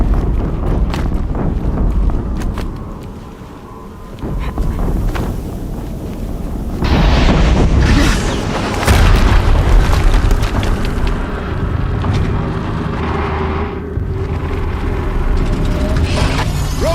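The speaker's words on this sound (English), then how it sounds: "Another explosion." Deep explosion booms roll out loudly in a game battle, a heavy blast around seven seconds and another near nine, over a constant rumble of wind and machinery with no voices.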